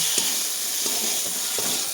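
Pumpkin frying with whole poppy seeds in a pan makes a steady, close sizzle, with three scraping stirring strokes at an even pace.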